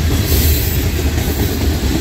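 A Norfolk Southern freight train with tank cars and coil cars rolls past close by at Creighton, Pennsylvania, a loud continuous rumble of wheels and rail noise with a low steady drone and no talking.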